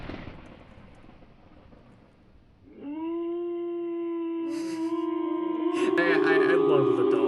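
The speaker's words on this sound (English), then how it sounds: "I love the wolf howling sound for this" A wolf howl sound effect from a Minecraft boss datapack rises into a long, steady, loud sustained howl with layered tones, following a stretch of quieter game noise, with a voice talking over it at times.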